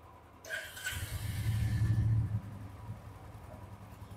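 Royal Enfield Classic 350 motorcycle starting up and settling into a low, steady idle, with a rumbling thump that swells for a couple of seconds before easing to a quieter, even putter.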